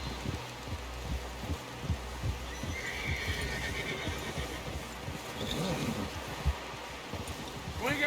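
A horse whinnies and its hooves clop in a Red Dead Redemption 2 scene, a steady rhythmic thudding beneath a brief neigh, with voices talking over it.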